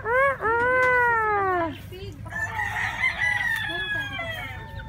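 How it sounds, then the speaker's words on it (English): A rooster crows loudly and close in Nasugbu, Batangas, Philippines, followed by chickens clucking and squawking nearby. "Hey, there's chickens everywhere."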